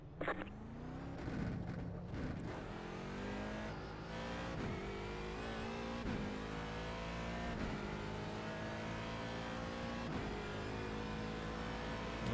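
Race car in a sim racing game at Silverstone accelerates hard, engine note climbing repeatedly through gears with brief dips at each shift, loud and close, no voices.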